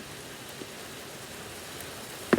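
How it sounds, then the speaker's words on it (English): Hard rain falls steadily outdoors as a constant, fairly quiet wash of patter with no voices, ending in a couple of brief louder knocks. "it's like raining hard now"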